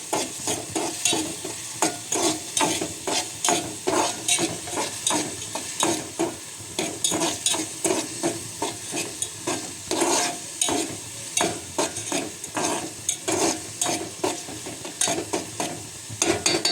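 Maggi noodles are stirred in a pan with chilli powder, a continuous run of scraping, clattering spoon strokes against the pan over a soft sizzle, close and steady throughout.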